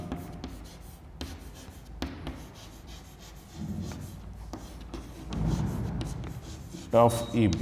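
A pen scratches across paper while a geometry solution on chord properties is written out, steady close scribbling in short strokes with brief pauses and a faint background hum.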